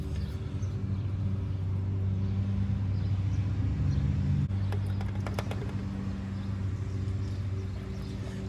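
A 1989 C4 Corvette engine idles steadily after starting, a low, even rumble holding close and constant throughout, with a brief shift in tone midway and some faint clicking above it.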